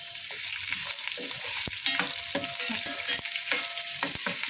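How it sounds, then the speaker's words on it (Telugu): Garlic and green chillies fry in oil in a pan, a steady close sizzle broken by regular scraping and stirring clicks from a spatula. "ఇలా అంతా వేయించుకోవాలి."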